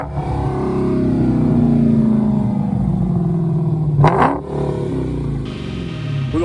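Car engine revving hard after start-up, a sustained loud rising and falling roar, then a sharp burst of clatter and a lower idle rumble.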